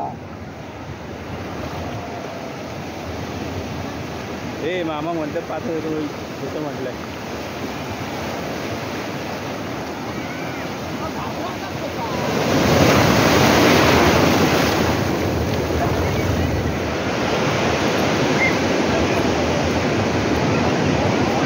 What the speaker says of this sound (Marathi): फक्त ही लाट एवढी मोठी येतात काय